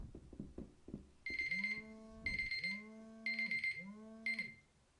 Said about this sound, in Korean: 요거는 저 알람입니다. 시간이 다 됐다는 알람인데